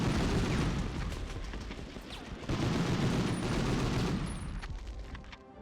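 Rockets firing in a PS1 video game come as a dense, continuous barrage of loud booming blasts and crackling gunfire-like bursts, sustained for several seconds before tailing off.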